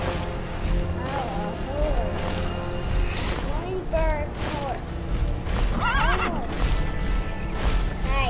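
A flying Pegasus horse in a video game gives several rising and falling whinnies over busy game sound effects, with excited voices talking over it.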